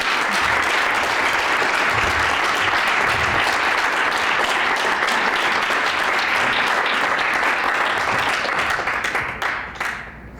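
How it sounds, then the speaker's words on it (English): Sustained applause from a conference audience at a session on PFAS contamination in Wisconsin, a thick, continuous clapping that stays strong for several seconds before tapering off abruptly near the end. "can I get a big applause for that"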